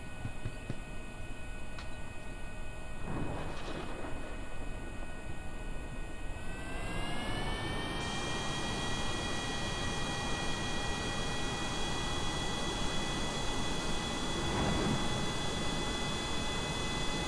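A jet airplane coming in to land in Kerbal Space Program, its engine a steady whining hum with tones that climb in pitch partway through, holding a constant moderate drone with no talk.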